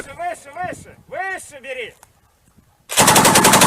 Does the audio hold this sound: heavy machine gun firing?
yes